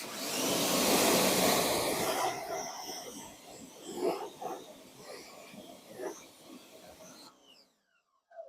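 A water spray rinses OEM Trailhawk wheels fitted with 245/65/17 all-terrain tires. A loud, close hiss for about two seconds tapers into intermittent spurts and splashes, then fades nearly to quiet.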